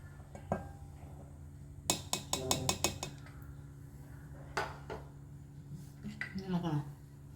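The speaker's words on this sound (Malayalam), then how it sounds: "നല്ലവണ്ണം ഇളക്കാം." A spoon stirs milk bun batter in a bowl, giving scattered clinks and a quick run of sharp knocks against the bowl, then softer scraping and tapping.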